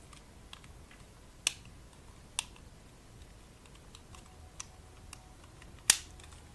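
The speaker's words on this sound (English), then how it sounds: "You can hear the relay click" A relay inside a power socket clicks a few times, sharp isolated ticks spaced seconds apart, the loudest near the end, over a quiet background hiss.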